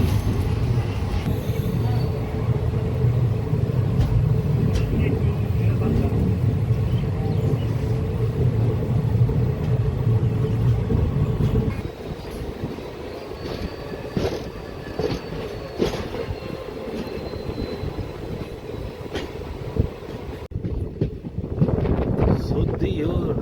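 The Madurai to Rameshwaram passenger train rolls out of Manamadurai Junction with a steady loud rumble and wind buffeting the microphone, then turns to rattling clatter on the rails and a brief hush near the end.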